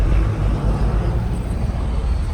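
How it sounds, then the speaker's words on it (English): Loud traffic rumble from big trucks driving past, a steady heavy low roar that holds through the whole stretch with no gaps. "sorry if you can't hear me over these loud ass trucks going by"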